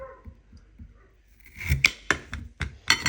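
Knife cuts through seafood on a board while seafood chowder is being prepared: several crisp, close chops and clicks in an irregular rhythm, following softer handling noises.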